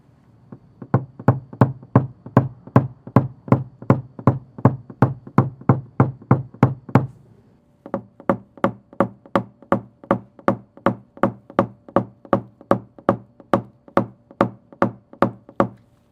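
Steady, rapid tapping knocks of a PDR tap knocking down a door dent on a white Ram, a fast run of sharp metallic-wooden taps, a brief pause, then another even series of taps, close and alone.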